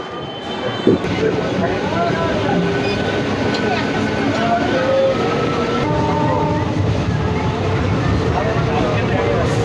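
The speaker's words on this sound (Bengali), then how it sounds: "2 নম্বর প্ল্যাটফর্মে ঢুকছে শেওড়াফুলি জংশনের হাওড়া আরামবাগ লোকাল" A local train rumbles and screeches steadily as it rolls into a station platform at a junction, with a loud, continuous mechanical roar and occasional squeal of wheels; voices murmur faintly.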